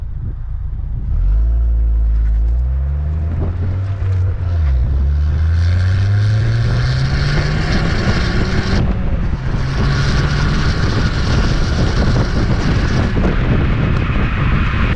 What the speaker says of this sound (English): Let's look at what the stock exhaust sounds like.